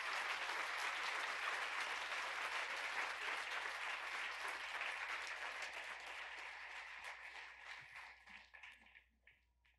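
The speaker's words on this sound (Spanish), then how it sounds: "Si le va a aplaudir al Señor, apláudale fuerte" A church congregation claps loudly for the Lord during a sermon, a dense, steady wash of applause that slowly thins out and dies away near the end.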